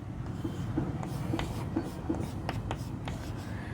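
Chalk or marker strokes on a classroom board during a biology lesson make steady scratchy taps and squeaks in a loose rhythm, close and moderately loud over a constant low room hum.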